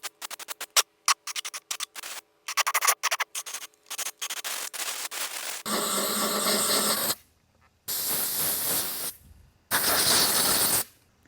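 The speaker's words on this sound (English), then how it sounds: "Now I'm going to take it out back and blow it out with my air compressor." Compressed air blasts dust out of a Dyson DC17 Animal vacuum part, first in rapid short bursts and sputtering hisses, then in three longer sustained loud blasts of rushing air separated by brief pauses.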